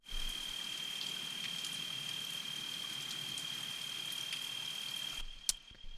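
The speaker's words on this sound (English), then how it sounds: "this rain effect sample. It is just a sample of some rain." Rain sample used as an ambient texture for 90s-style ambient techno, a steady hiss of falling rain with scattered drop patter, quiet and continuous, with a thin high tone running through and a brief pop near the end.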